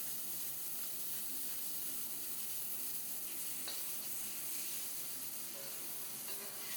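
Beef frying in beef tallow in a pan gives a steady, even sizzle and hiss for the whole stretch, with a few faint ticks and pops, no voices.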